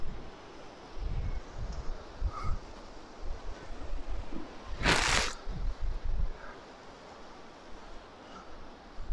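Gusty wind sweeps through an old graveyard on a blustery day, rumbling and buffeting in uneven low surges, with one sharper rushing burst midway.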